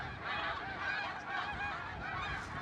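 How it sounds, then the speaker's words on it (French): A flock of snow geese honking continuously, many overlapping calls close by, loud and steady throughout. "des cris d'oies particuliers"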